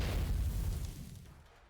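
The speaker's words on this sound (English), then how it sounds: "Dust flies everywhere amongst the ensuing explosion." A video game artillery shell strikes a guard post, a deep rumbling boom that hits hard at once and then rolls off into a fading low roar over under two seconds, with no talk.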